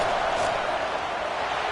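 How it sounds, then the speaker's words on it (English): An Auburn football stadium crowd roars as the field goal unit lines up for a kick near the end of the first half, a dense, continuous wall of distant cheering noise. "This crowd trying to do its part to get inside the kicker's head."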